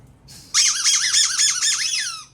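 A rubber squeaky pet toy squeaks in a rapid wavering series of high-pitched squeals, close and loud, lasting about two seconds.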